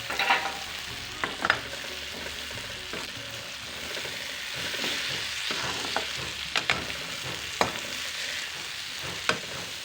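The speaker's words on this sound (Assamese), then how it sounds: "ইফালে মই বুট ভাজি আছোঁ।" Chickpeas roasting and stirred in a pan at home give a steady dry frying rustle with scattered sharp clicks and scrapes of stirring, moderately close, with no talk.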